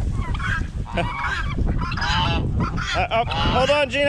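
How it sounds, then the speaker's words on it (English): Geese honk loudly and continuously at close range, a flock of harsh overlapping calls, while a person briefly speaks among them. "Excuse me there, geese."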